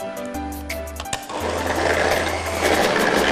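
Electric mixer beating mini martabak batter, a steady loud whirring drone that continues throughout with a brief shift partway, amid kitchen clatter.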